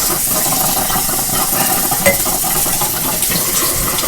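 A coffee maker pours coffee in a steady, loud liquid stream that runs continuously without pause, close to the microphone, with a faint clink partway through.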